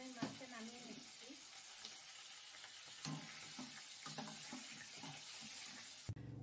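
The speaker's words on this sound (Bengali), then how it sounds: "মাছ ভাজা তেলে আমি আলুগুলো ভেজে নিচ্ছি।" Potatoes frying in oil left over from frying fish, a steady hiss of sizzling with faint stirring clatter throughout, ending with a brief louder knock.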